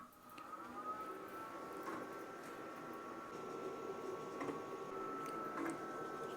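A vinyl cutting machine works through a sheet of vinyl at low speed and moderate cut force, a faint steady motor hum with a sustained tone and soft intermittent ticks as the blade carriage moves.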